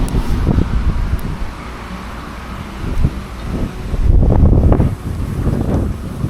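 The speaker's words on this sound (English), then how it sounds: "you can probably tell from all the wind noise in the camera, it's quite windy" Heavy wind buffets a camera microphone beside the Canal du Rhône au Rhin in France in winter, producing a constant low rumble with gusty surges that swell louder toward the end, no voices.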